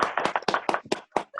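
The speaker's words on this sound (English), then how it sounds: "So please give them all a round of applause." Applause at a virtual retirement party, a few hands clapping in quick uneven bursts close to the microphone, brief and without talk.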